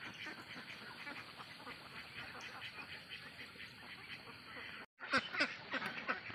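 Laying ducks on a duck farm, a flock of quacking birds heard at moderate distance in an ongoing busy chorus, with a brief break before louder nearby quacks resume.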